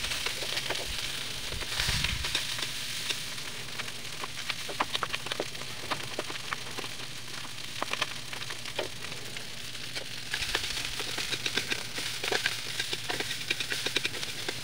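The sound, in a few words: frying leftover rice to make sinangag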